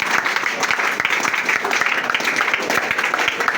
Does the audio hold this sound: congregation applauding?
yes